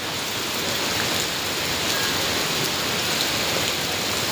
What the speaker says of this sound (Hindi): फिर से तेज़ हो गया बारिश